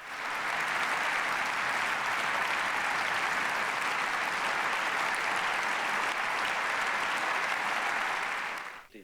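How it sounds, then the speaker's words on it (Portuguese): German parliament members give Zelensky a standing ovation: dense, sustained applause from a large chamber crowd, steady and even throughout before fading out at the end. "Zelensky foi ovacionado pelo parlamento, que o aplaudiu de pé."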